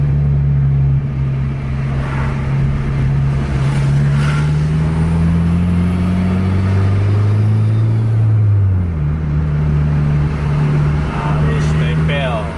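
A Putra Pelangi coach bus with a Volvo or Scania engine labours along a winding road, a loud, steady engine drone whose pitch shifts as it climbs and corners. Someone talks over it throughout.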